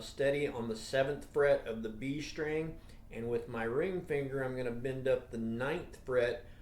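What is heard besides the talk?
No everyday noise stands out behind the speech.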